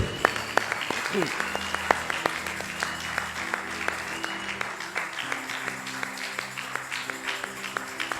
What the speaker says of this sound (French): Est-ce qu'on peut acclamer bien très fort la parole de Dieu?